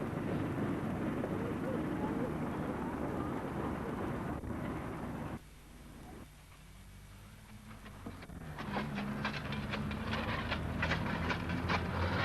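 A train hauled by the locomotive RSH No. 1 rumbles past on the East Lancs Railway, a heavy broadband roar that dips briefly, then returns with rhythmic clicking of wheels over rail joints.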